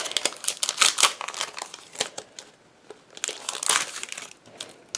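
A paper sentiment is pulled from crinkly plastic packaging, producing bursts of bright crackling and crinkling in close irregular runs, separated by a brief quieter pause.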